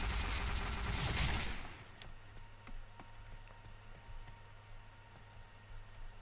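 Rapid gunfire from a newly bought gun in the online shooter Piercing Blow, a dense loud burst at first that thins into scattered sharper shots over a background hum.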